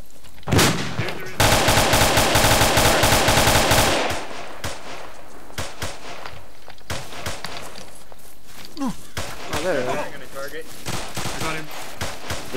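Arma gunfire: a loud, rapid burst of automatic fire lasting a few seconds, followed by scattered sharper single shots and thuds, with people talking over radio.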